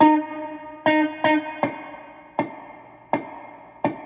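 A muted string plucked on a cigar box guitar, played with the thumb and first finger and drenched in reverb: about seven sharp percussive clicks at an uneven pace, each ringing out and fading, with no voice.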